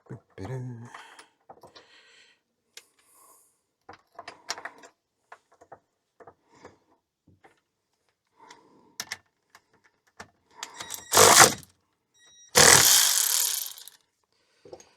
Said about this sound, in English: I think I'll undo this nut now and take the tension off of it